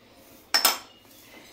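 A spoon clinks twice against a bowl while pancake batter is mixed with chilli, chopped onion and grated carrot. The two sharp clatters come close together, then all goes quiet.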